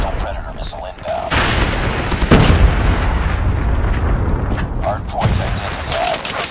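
In a ranked online shooter match, a Predator missile strikes with a deep boom amid continuous gunfire and battle noise, loud and dense, while game voice callouts and talking run over the top.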